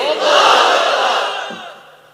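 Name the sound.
crowd shouting takbir loudly at a sermon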